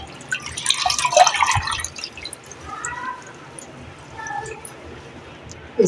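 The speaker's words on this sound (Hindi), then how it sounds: "इसे पानी में वॉश करेंगे" Fresh coriander leaves are swished and rinsed in a bowl of water, giving a burst of close splashing and sloshing, then softer intermittent drips and trickles.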